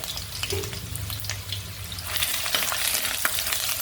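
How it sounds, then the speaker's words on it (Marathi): Chopped garlic, ginger and vegetables sizzling and being stirred in hot oil over a high flame for Schezwan rice, a steady crackling fry with scraping stirs that grows louder and brighter midway. "चांगलं परतून घेऊया तेलामध्ये"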